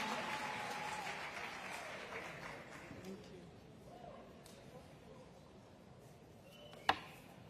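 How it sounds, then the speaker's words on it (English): Audience applause at a summit conference, fairly full at first then thinning into scattered claps and murmur, with a single sharp knock near the end. "Guys, a round of applause at least."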